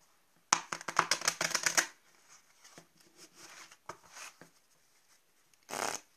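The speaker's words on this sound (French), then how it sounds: "je prends l'autre partie et je viens mélanger le paquet. Un mélange à l'américaine." A riffle shuffle of a deck of playing cards, a fast burst of fluttering card snaps up close lasting about a second and a half, followed by quieter handling rustles and a second short riffle near the end.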